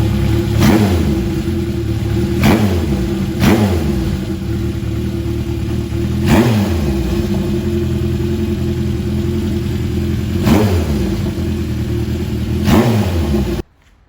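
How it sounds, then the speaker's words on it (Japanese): A Honda CB750 Four K4 motorcycle with short baffled exhaust pipes idles with a loud, steady burble, punctuated by about five sharp throttle blips before it cuts off abruptly. "じゃあちょっとエンジン始動お願いします。"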